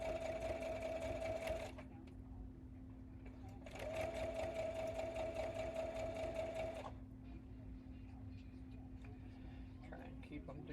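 A sewing machine runs a reverse stitch while quilting, two close, steady whirring bursts of rapid stitching separated by a pause, with a low background hum and quiet murmuring nearby.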